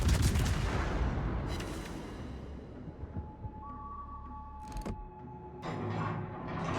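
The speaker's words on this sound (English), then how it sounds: "Bismarck shooting HE" Bismarck battleship firing high-explosive shells in World of Warships, with heavy rumbling gunfire booms at the start and short sharp blasts later, amid continuous battle noise, no talk.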